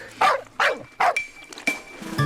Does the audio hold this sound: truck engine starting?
no